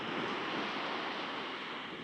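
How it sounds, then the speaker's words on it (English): Sea waves breaking on a beach at Nairn in Scotland, a steady broadband wash of surf mixed with wind noise, moderately quiet and continuous without any voices. "sit and listen to these waves crashing"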